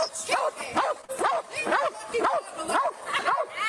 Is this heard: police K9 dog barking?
yes